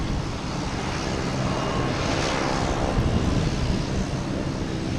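An airliner approaches Boston Logan Airport, a steady, broad jet roar that swells gently while rushing wind noise sits underneath it.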